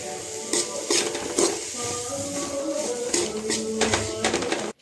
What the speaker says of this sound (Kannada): ಬದನೆಕಾಯಿಗೆ ಸ್ವಲ್ಪ ಅರಿಶಿನ ಹಾಕೊಂಡು ಚೆನ್ನಾಗಿ ಬಾಡಿಸ್ಕೋಬೇಕು